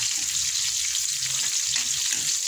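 Onions sautéing in hot oil for beef kaldereta, a steady close bright sizzle that stays loud and even throughout, with faint low stirring underneath.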